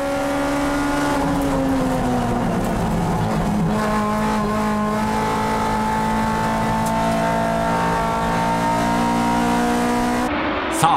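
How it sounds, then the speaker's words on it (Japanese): A Toyota AE86 race car accelerates hard on a circuit, its engine note loud and sustained and climbing steadily through the revs, with no break for the whole stretch. "最も軽い SS ワークス号に加速で勝る恐るべし亀田パワー"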